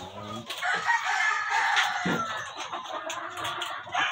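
Chickens cluck and a rooster crows in a backyard poultry yard during afternoon egg collecting, a busy, fairly close mix of fowl calls.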